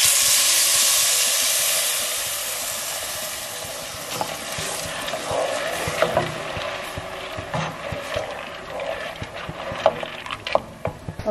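Blended tomato poured into a frying pan of pasta soup with vegetables, hissing and sizzling steadily, fading slightly, then stirred with scattered scraping and clicking of a utensil against the pan, close and alone.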